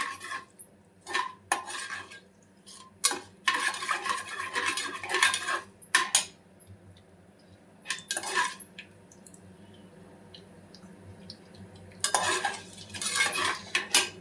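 A metal spoon stirs mustard seeds frying in a pan, bursts of scraping and clinking against the pan separated by quieter stretches with faint sizzle beneath, heard close with no talk.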